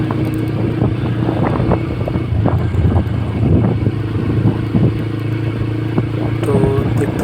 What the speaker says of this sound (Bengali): চালিয়ে যাচ্ছি বাইক।